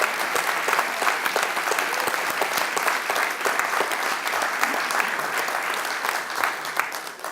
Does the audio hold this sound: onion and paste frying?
no